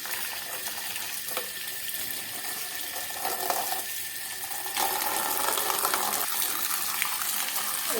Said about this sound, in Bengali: এটা বাটা মাছটাকে আমি ধুচ্ছি।